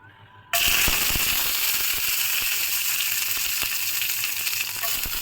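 Garlic hits hot mustard oil in a frying pan, setting off a sudden loud sizzle that stays strong and steady, peppered with small crackles and pops.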